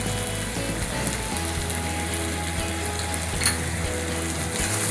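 Turmeric and red chilli powder sautéing in hot oil in a pan for a dried Bombay duck chutney, heard as a dense, even sizzle close by with faint scraping, with no talking.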